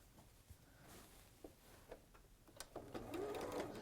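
Home sewing machine running a quick quarter-inch seam along a fabric edge while making a bag: faint scattered clicks, then a short, soft whirring burst of stitching near the end, fairly quiet and close.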